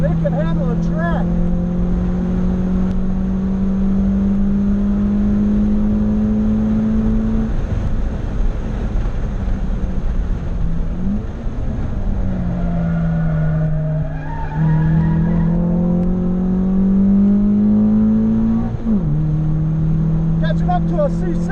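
A Honda Accord sedan is driven hard on a race track during a track day. The engine drones loudly and rises and falls through gear changes, with brief tyre squeal. Someone talks over it now and then.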